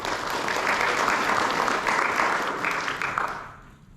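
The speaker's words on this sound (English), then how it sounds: "Give those guys a round of applause." Audience applauding CERT members at a Coconut Creek fire rescue community meeting, steady dense clapping across the room that fades out at the end.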